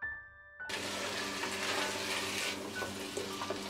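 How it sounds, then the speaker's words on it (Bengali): Lima beans are poured into a hot pan for a stinging catfish curry, triggering a sudden burst of steady, loud sizzling and frying hiss that continues close by. "এখন চুলার আঁচটা আবার একটু বাড়িয়ে দিয়ে আমি সিমের বিচিগুলো ঢেলে দিব।"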